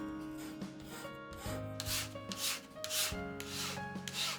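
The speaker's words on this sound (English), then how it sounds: "I put the tofu on the far side, and I strain it with a wooden spatula." Tofu is pressed through a strainer with a wooden spatula, giving steady close scraping and rubbing strokes, repeated in a rhythmic back-and-forth with no talk.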